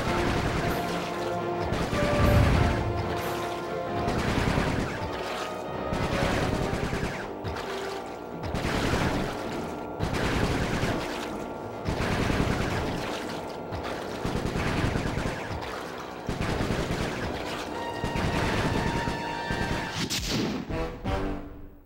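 Repeated bursts of video game gunfire in Sly 3: Honor Among Thieves, loud rapid volleys of shots recurring every couple of seconds throughout, with no talk.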